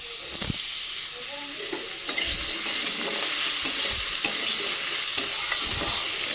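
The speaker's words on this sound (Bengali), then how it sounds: "পেঁপেটা চাপিয়ে দিয়েছি সর্ষে ফোড়ন দিয়ে" Papaya frying in a mustard-seed tempering, a loud close sizzle with repeated scraping and knocking strokes as pieces are moved around the pan.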